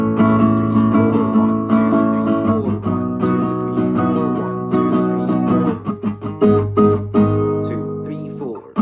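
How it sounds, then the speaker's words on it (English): Palm-muted electric guitar outro played as a repeated four-count pattern, steady chugging chords ringing close and loud throughout with no talking. "which is the same as the intro but with the palm mute"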